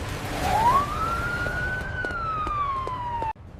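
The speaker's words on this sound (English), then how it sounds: "Just then, a police car drove past." A police car siren wails past, its pitch sweeping up then slowly falling as the vehicle drives by, loud and close over steady road noise, cutting off abruptly at the end.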